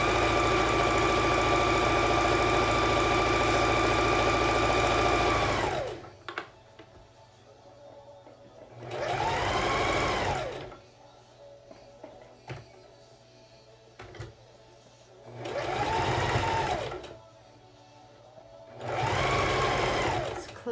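A sewing machine stitches face mask fabric for a cover that fits over an N95 mask: one long continuous run of fast stitching, then three shorter bursts separated by quiet pauses.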